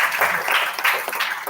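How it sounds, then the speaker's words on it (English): A conference audience applauds the students, a short burst of dense clapping from a crowd, fairly close and lively, with no speech over it. "So give a huge round of applause for the students."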